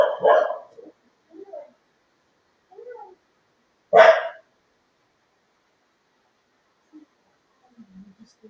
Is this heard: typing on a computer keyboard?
no